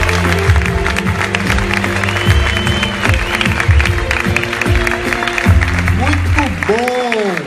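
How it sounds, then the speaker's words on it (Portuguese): An audience applauds at the 20th Avon makeup award ceremony, with sustained clapping from a crowd heard under a loud voice talking over it. "E a gente só tem que aplaudir."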